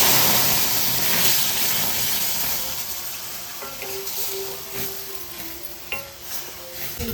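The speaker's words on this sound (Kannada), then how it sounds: "ಚೆನ್ನಾಗಿ ಸ್ವಲ್ಪ ಫ್ರೈ ಆಗೋವರೆಗೂ ಚೆನ್ನಾಗಿ ರೋಸ್ಟ್ ಮಾಡ್ಕೊಳ್ಳಿ" Tomato paste roasting in a pan of oil for cabbage paratha, a continuous hissing sizzle that gradually softens, with occasional light clinks of a utensil, no talk.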